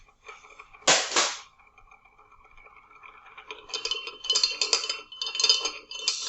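A magnetic stir bar in a laboratory beaker gives one sharp clack, then rattles and knocks in quick bursts as it jumps around, close and fairly quiet.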